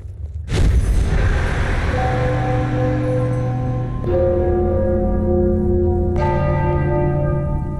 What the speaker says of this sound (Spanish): I'm sure the bells have something to do with the riddle.